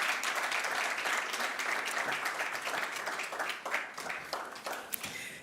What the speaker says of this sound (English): Let's please give a warm applause for our panelists.